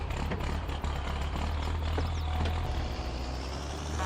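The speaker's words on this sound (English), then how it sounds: "they've definitely updated the engine sounds in this thing" A modded truck engine in Farming Simulator 22 runs with a steady low rumble and drone, close and constant throughout with no talk.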